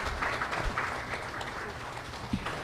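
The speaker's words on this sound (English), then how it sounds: "Let us give the President a round of applause." Crowd applause for the President fills a hall at the contract signing for the Metro Manila Subway Project. The clapping is a steady, even wash, heard from a distance at moderate volume.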